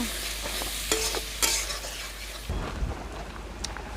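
Spiced banana flower with dry chili powder stirred in a frying pan for an egg dish, a sizzle with scraping strokes and clanks of the spatula, close and alone.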